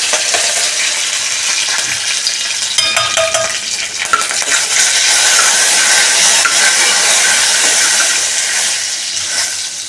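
Curry leaves, mustard seeds and cumin crackle and fry in hot oil in a pot, a loud continuous hiss with sharp pops and spits throughout, no voices.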